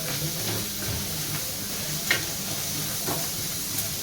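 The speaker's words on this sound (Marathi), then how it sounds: "छान पैकी भाजून घ्या. लाल लाल करायचा आहे आपल्याला कांदा, काळा काळा नाही." Chopped, washed onion frying in a pan on a gas stove, giving a steady, low hiss and sizzle with a few faint stirring taps, close but quiet and with no voices.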